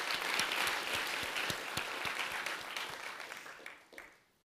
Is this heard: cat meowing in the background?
no